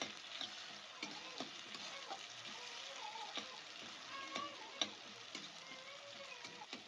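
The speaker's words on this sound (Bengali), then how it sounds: "একটু নাড়াচাড়া করবো।" A spoon stirs browned onion with chopped tomato and green chilli in a pan for Bengali egg chop. The sizzle is soft and low, with occasional light scrapes and taps from the spoon.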